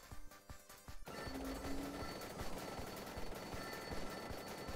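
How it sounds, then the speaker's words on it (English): Explosions in the video game Vampire Survivors: a dense, continuous barrage of crackling blasts and rapid gunfire-like hits that starts abruptly after a brief stutter and keeps going loud to the end, with no talking. "at least the explosion's nice and big now"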